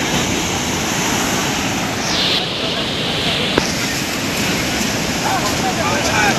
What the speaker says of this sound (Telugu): రాకాసి అలలు ఎలా అక్కడున్న వాళ్ళందరినీ లోపలికి తీసుకువెళ్లిపోతున్నారో చూస్తున్నాం.